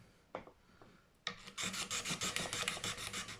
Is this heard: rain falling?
no